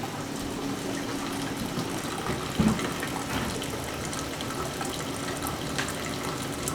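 Maple syrup flows steadily from a sugar evaporator in a sugar shack. The liquid pours in a continuous soft, gushing stream at moderate distance with a faint background hum, and no talk is heard.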